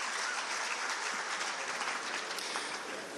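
Brief, steady applause from a crowd at a press conference, a soft even wash of clapping heard at some distance with no break.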